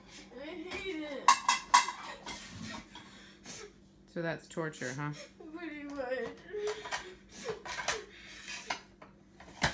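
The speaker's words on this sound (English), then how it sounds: "You're making me do dishes." Dishes are washed by hand at a sink, with close clinks of plates and cutlery and scrubbing rubs scattered under a conversation between people.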